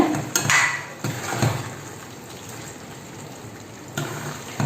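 Karunai kizhangu masiyal, a yam mash, is stirred with grated coconut in a cooking pot. Scraping and clinking strokes come in short bursts near the start and again toward the end, with a soft bubbling background between them.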